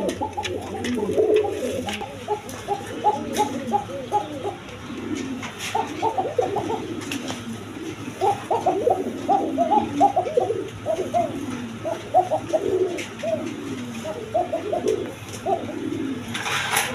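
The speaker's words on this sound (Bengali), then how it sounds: "দর্শক দেখেন কোকার ডাকটা দেখা দিতেছি, প্রচুর পরিমাণ ডাকে, প্রচুর পরিমাণ" Pigeons kept as a breeding pair in a coop coo repeatedly at close range in a dense, throbbing chorus of low rolling calls that overlap continuously throughout, with no talking.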